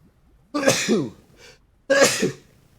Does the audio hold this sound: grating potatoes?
no